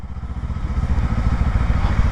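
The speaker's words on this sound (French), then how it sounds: "Le moteur, il se met en veille et là, je suis en hybride." Engine of a Kawasaki Ninja 7 Hybrid motorcycle running close by, a steady low rumble with a fast, even pulse and no talk over it.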